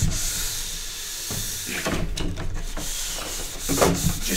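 A structure pad rubbed along a snowboard base from tip to tail gives a close, continuous coarse rasping hiss with rhythmic strokes that swell and fade, and a slightly louder pass near the end.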